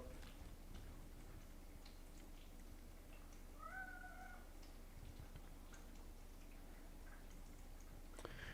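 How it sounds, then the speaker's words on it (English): A domestic cat gives a single short, faint meow at a distance against a quiet room background, with light ticking around it. "Hello, cat."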